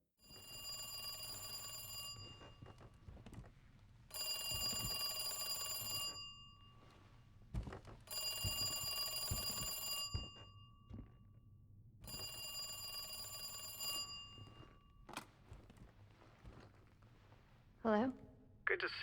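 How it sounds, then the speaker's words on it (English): An in-game telephone rings in Resident Evil 2 in four long, evenly spaced electronic bursts with short silences between, fairly close and clear, followed by a few brief thuds. "right before she obtains the key card, the phone would ring"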